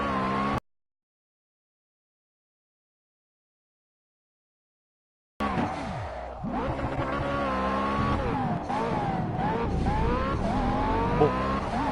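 Race car sliding sideways with squealing tires in the Project CARS racing game, a loud continuous engine and skid sound that begins abruptly after a short silence and holds steady to the end.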